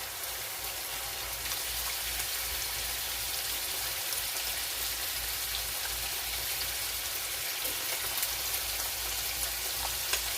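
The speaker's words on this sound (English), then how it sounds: "we're going to let this sear really well. It's got to be really high" A steak searing in a very hot pan gives a dense, steady sizzle and crackle that holds at an even level throughout, with no talk over it.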